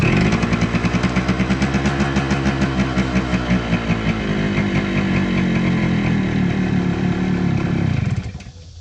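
An old motorcycle engine running on choke with a possible air leak, chugging in a fast, even pulse at close range, settling into a steady idle, then cutting out abruptly near the end; no one talks over it.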